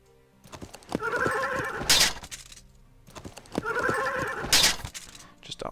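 Two horse whinnies in the Through The Ages video game, each a loud, rising and falling neigh lasting about a second and a half, separated by a short pause.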